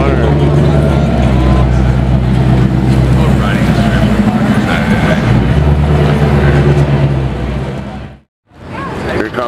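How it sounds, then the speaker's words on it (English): A Mercedes-AMG GT R Roadster roars past at close range, its loud engine note swelling and holding before cutting off abruptly near the end, with people talking excitedly over it. "Here comes the AMG GTR Roadster"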